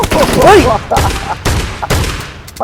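Shotgun blasts in PUBG Mobile, a few loud booming shots in quick succession, close and heavy, mixed with a voice talking over the gunfire.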